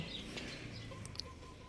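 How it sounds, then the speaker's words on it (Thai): Chickens cluck faintly around a rural home yard, their short calls distant and low against a steady background hiss of outdoor ambience. "ได้ยินเสียงไก่หน่อย"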